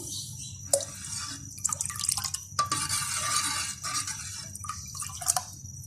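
Two tablespoons of vinegar poured into a pan with ketchup while cooking Schezwan chilli chicken, heard as a few close, sharp liquid splashes and drips spread across several seconds with no talking.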